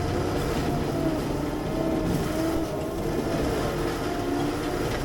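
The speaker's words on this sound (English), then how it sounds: "mulcher spool up again. Got a stump here," A forestry mulcher grinds into a stump during a five-acre clearing job, a steady loud heavy machine roar with a low, labouring drone that sags under load, continuous throughout with no talking.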